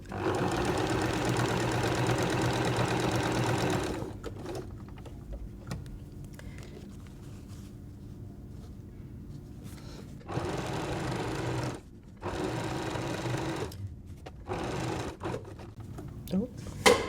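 A sewing machine runs in one long, steady burst while stitching a plus-sign patchwork quilt, then comes back in several shorter bursts separated by brief pauses, close and clear.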